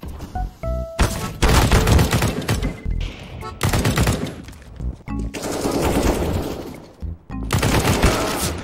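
Gunfire in the video game CS:GO: loud, dense bursts of rapid automatic fire and single shots, sustained with brief gaps between volleys.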